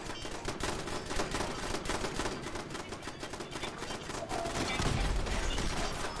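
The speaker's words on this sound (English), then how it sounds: "Oh, they're shooting each other." Automated turrets in a medieval video game firing at each other, heard as a continuous dense rattle of rapid gunfire that stays loud and unbroken from start to finish.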